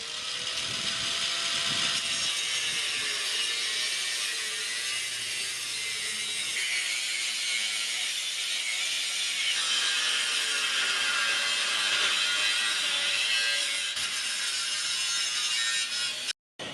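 A steady, loud metal cutting tool grinds and saws through the exhaust muffler pipe of a 6.0 Powerstroke truck beside a road, running continuously with slight changes in pitch before a sudden stop.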